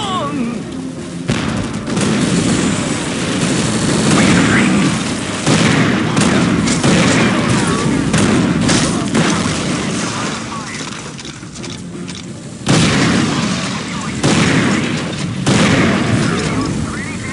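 Repeated heavy booms and bursts of gunfire in an Unreal Tournament 2004 team deathmatch with the Ballistic Weapons mod, loud and sustained with short gaps, and game voices call out over the blasts.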